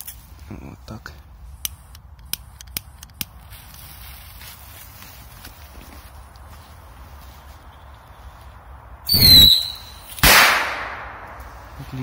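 A few sharp clicks and taps, then two loud bursts: a shrill rising whistle followed by a sharp bang from a firecracker, fairly close.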